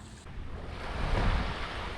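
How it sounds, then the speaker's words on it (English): Waves wash onto sandy Sarigaki Beach in Okinawa, a steady, full surf roar that swells slightly midway, with some wind buffeting the microphone. "Made it here to beautiful Sarigaki Beach."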